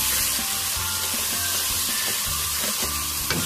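Chicken frying in a pan with biryani masala being stirred in, a steady close sizzle with scraping spoon strokes running throughout, no voices.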